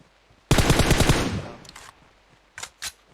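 Uzi submachine gun firing a rapid, loud close burst of about a second in PUBG Mobile, trailing off, followed by two brief separate shots further off; no talking.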